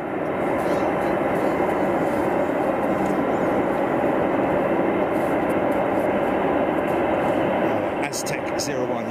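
A large jet airliner at Anchorage's Ted Stevens International Airport rolls for takeoff, its engine roar loud, broad and steady throughout, ending in a brief burst of higher noise.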